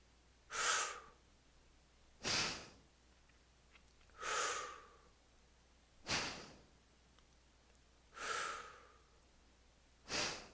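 Slow, deep breaths in Kundalini breathwork, each inhale and exhale a broad airy rush, repeating about every two seconds, close and clear in a quiet room with no talk.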